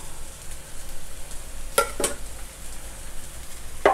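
Onion and salted egg sauce stir-frying in a hot pan give a steady soft sizzle, broken by a few brief scrapes and clatters of a ladle.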